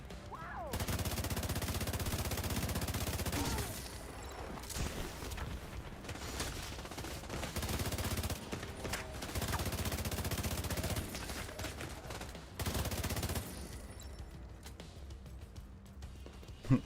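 Gunfire in the video game The Division 2, long sustained automatic bursts broken by short pauses, loud and dense with mechanical clatter and a sharp final shot, with no voices.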